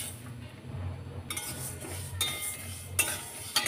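Dry spices stirred in a heated kadai, with a utensil scraping and clinking against the metal in a few sharp bursts over a quiet background.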